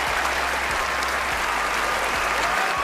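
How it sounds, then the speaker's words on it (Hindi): Sustained audience applause, a thick even wash of many hands clapping at once that holds steady throughout the brief stretch, with a low hum running underneath. "तालियां।"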